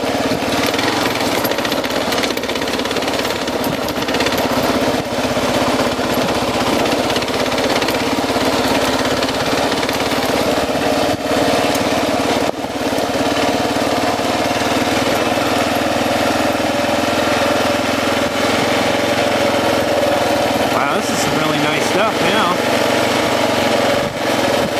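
Kawasaki KLR 650 motorcycle engine thrumming steadily while riding a rocky, loose trail in the Organ Mountains, close and loud throughout with wind noise and occasional bumps.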